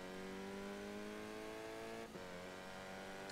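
Bugatti Veyrons fitted with feeble Reliant engines race in Forza Horizon 3, a steady, strained engine drone whose pitch slowly climbs, with a brief disturbance partway through and no talking.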